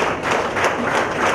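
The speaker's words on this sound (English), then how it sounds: "Why are you clapping like this?" An audience in a college language laboratory claps in quick, fairly steady rhythmic bursts, loud and close, with no talking over it.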